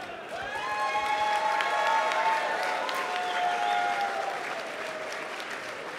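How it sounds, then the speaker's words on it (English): A large audience at a QuakeCon 2014 Capture the Flag gaming showmatch claps steadily throughout, a dense wash of applause with some cheering voices rising over it. "let's give them a round of applause."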